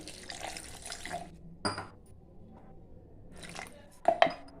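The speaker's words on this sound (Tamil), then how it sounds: "இந்த தண்ணி ஊற்றி இன்னும் நைஸாக அரைச்சிடறேன்" Water splashes and pours into a mixer grinder jar in a couple of short bursts, with soft clinks of the jar in between.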